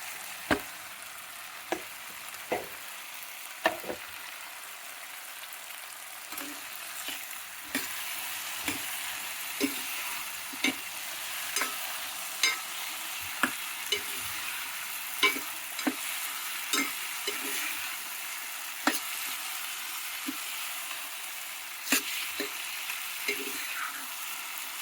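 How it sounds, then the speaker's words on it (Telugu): Capsicum pieces fry with softened tomatoes in a pan for a potato and paneer curry, a constant sizzle under regular sharp clinks and scrapes of a spoon stirring, with no talking. "ఇది కాస్త టమాటా పళ్ళు మెత్తపడినాయి కదా, ఇప్పుడు క్యాప్సికమ్ ముక్కలు వేసుకోవాలండి."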